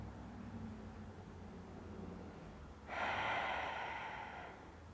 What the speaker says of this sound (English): Let your exhales really come out